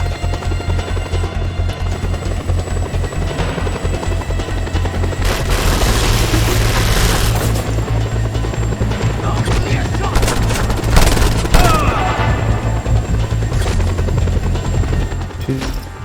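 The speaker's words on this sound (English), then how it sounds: "A chopper!" Helicopter in the action game Just Cause 2, a loud close rotor chop throughout with bursts of machine-gun fire and explosions layered over it.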